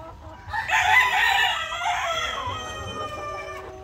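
Chickens at a farm feeding trough eating coconut pulp, heard as loud, close clucking and squawking calls that overlap continuously, with one bird's call rising into a crow-like cry.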